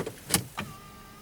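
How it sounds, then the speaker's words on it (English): An electric easy-entry steering column in a Mercedes C-Class gives a couple of soft clicks, then a thin, steady motor whine hums briefly and quietly inside the cabin. "what that basically is the steering wheel and the seat moving so I can get in and out"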